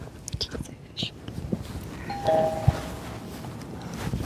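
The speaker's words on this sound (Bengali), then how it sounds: "আরে এখন আবার কে কলিং বেল বাজাচ্ছে?" A doorbell gives one brief, fairly clear ding inside a home, surrounded by quiet whispering and some movement.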